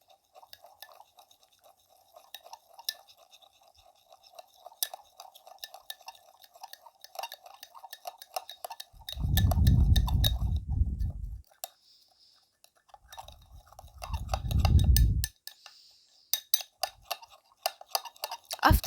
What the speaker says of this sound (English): we need to mix well all the ingredients